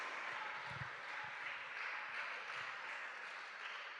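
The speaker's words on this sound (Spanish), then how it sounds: "Dale un aplauso al Señor." A church congregation applauding: a steady, dense wash of clapping from many hands, moderately loud and continuous, with scattered low thumps underneath.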